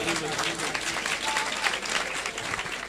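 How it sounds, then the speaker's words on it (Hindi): Dense, steady crowd applause fills a large outdoor prayer meeting at FGA Ground, continuous clapping at full strength throughout with a loud, even wash of many hands. "आइए उस जिंदा खुदा के लिए जरा तालियां बजाएं।"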